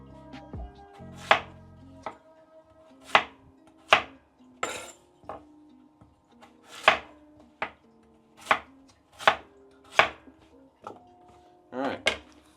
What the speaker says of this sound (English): So now I'm going to chop them up small-ish cubes